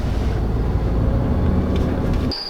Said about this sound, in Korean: 내가 변속 VGT 컨트롤 솔레노이드 밸브를 교체해서 또 시운전 한번 해보고 마무리를